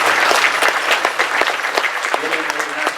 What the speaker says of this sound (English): iam Abrahamson, Dave Ashley, Darren Barkley, please give some applause.